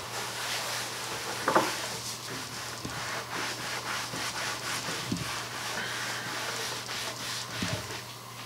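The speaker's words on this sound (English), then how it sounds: "I'm just taking some 4-aught steel wool with a little bit of the stripper on it" Fine 0000 steel wool soaked with chemical stripper rubbing over the finish of a Depression-era wooden table, a soft, close scratchy scrubbing in repeated strokes with a few small knocks.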